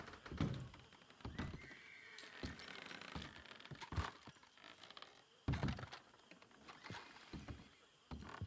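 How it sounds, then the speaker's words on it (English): Horse whinnies in a Red Dead Redemption roleplay game, several short bursts mixed with hoof-like thunks and clatter, fairly close and loud, with no talking. "I thought I heard a horse."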